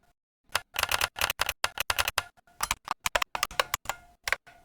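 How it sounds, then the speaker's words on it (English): Rapid clacking keystrokes from a computer keyboard set to play typewriter sound effects, a dense close run of sharp clicks with brief pauses. "There's actually a typewriter sound when I'm pressing my keyboard."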